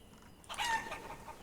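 A diseased chicken in Life Is Feudal: Forest Village lets out a short clucking squawk at mid-distance, rising briefly over a quiet game ambience before fading.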